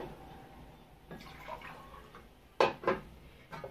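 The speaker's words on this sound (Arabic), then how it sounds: "هبدا انزل عليه على طول بكوبايه ونص من الميه" Water poured from a cup onto rice and vermicelli in a pot: soft, faint splashes with a few brief, sharper pours near the end, over a quiet background.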